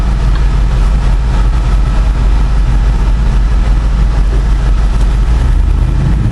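Loud, steady low rumble of an LS3 V8 engine idling in a Jeep fitted with a 6L80 transmission, a constant throbbing drone with no breaks.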